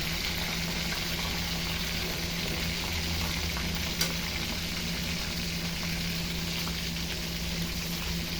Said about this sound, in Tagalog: gusto ko muna ng half cook na pagka-prito